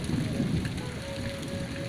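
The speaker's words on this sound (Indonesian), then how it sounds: "hujan deras mengguyur pedesaan ini" Heavy rain pours steadily on the remote rural village of Cioray, a dense, continuous hiss of drops striking surfaces close by, with no voices over it.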